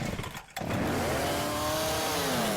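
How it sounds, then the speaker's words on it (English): A chainsaw buzzes loud and close, dipping briefly near the start before roaring back into a steady, high-pitched run with rising and falling engine tone. "I have the chainsaw."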